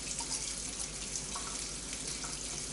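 Tap water runs steadily into a kitchen sink to rinse something after anchovies are put into a jar, a continuous close splashing hiss that lasts the whole time with no talking.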